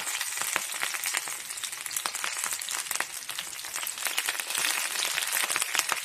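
Mussels fry in a pan with curry leaves, a close, steady crackling sizzle with scattered sharp pops running unbroken throughout, with no talking over it.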